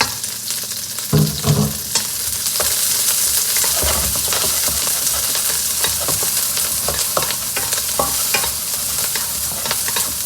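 Aromatics hitting hot oil in a stir fry for chicken hearts make a loud, steady sizzle and crackle, with occasional stirring clinks and scrapes throughout and no talking.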